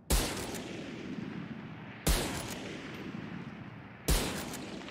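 Gunfire from the shooter video game Valorant: three single loud shots spaced about two seconds apart, each with a sharp crack and a decaying echo tail, with no talking.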